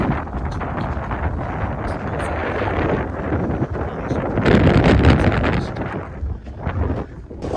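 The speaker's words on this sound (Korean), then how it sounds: "진짜 바람이 너무 불어." Strong wind buffets the microphone at a paid public beach in a sand-storm-like gale, a loud, continuous roaring rush that swells to a peak midway and then eases slightly, with no clear voices over it.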